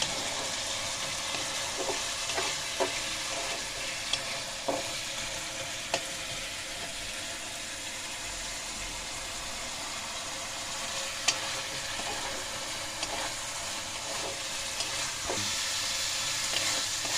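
Gravy for an aloo-begun fish curry sizzles and fries in oil in a pan, a steady hiss broken by occasional scrapes and taps of the spoon as it is stirred, with no talk.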